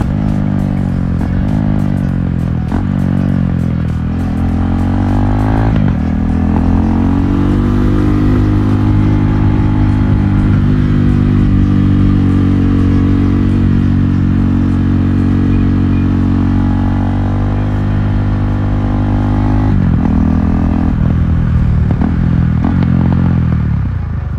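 KTM 390 Duke single-cylinder motorcycle running with the exhaust muffler removed, a loud, raw, close throbbing engine note held at high revs, with sharp blips and pops at the start and near the end.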